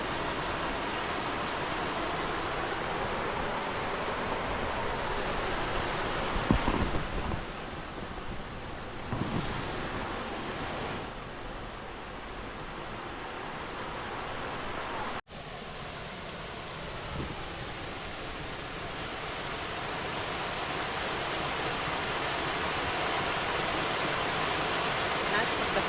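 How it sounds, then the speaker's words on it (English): A small waterfall on a creek along a hiking trail in Branson, Missouri pours a steady, broad rushing roar that fills the scene, mixed with wind buffeting the microphone. "That's just the first waterfall."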